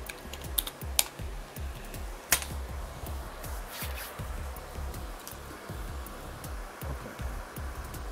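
A sudo command is typed on a computer keyboard while setting up Kioptrix in VirtualBox, giving a steady eight-second run of close, sharp keystrokes with a few louder taps and no speech.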